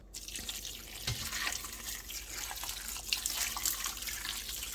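Tap water runs into a kitchen sink while food is prepared for palm nut soup and rice balls, a steady close splashing and trickling stream with scattered drips and no talk.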